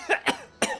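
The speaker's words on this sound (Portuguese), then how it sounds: "Gritou ele no meio de um acesso de tosse." A man coughs in a fit after choking on and spitting out tap water, giving three sharp, close hacks in quick succession.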